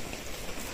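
Steady rain patters down outdoors at Barsopani in Barkagaon, Hazaribagh, Jharkhand, a dense, even hiss of drops striking the ground with no voices heard.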